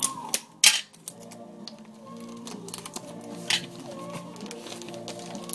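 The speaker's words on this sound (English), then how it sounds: "This is the bottom side, so I'm going to tape that down first." Sticky tape being pulled and pressed onto Christmas gift wrap: a few sharp rips and crackles near the start, then softer scattered taps and rustles of paper, close and fairly quiet.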